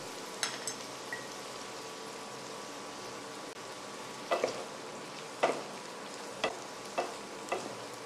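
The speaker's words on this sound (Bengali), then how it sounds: "এবার এর মধ্যে দিয়ে দিচ্ছি কিশমিশ আর কাজু।" Raisins and cashews fry in a pan for homemade fried rice, giving a soft, steady sizzle close by with occasional sharp taps and scrapes of a spatula as they are stirred.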